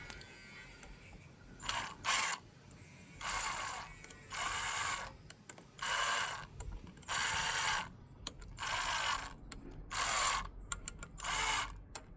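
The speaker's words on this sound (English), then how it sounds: "I'm just gonna wind it in slowly into probably 1 click, and then just go round with a ratchet" A hand ratchet clicks in steady, evenly spaced bursts while a motorbike clutch part is wound in during a clutch replacement, close up and alone.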